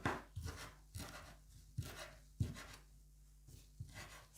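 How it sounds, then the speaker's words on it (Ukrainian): A knife chops parsley rapidly on a cutting board, a quick run of crisp thuds and scrapes at an uneven rhythm, close up. "Я дуже люблю зеленою петрушкою. Нарізаю швиденько."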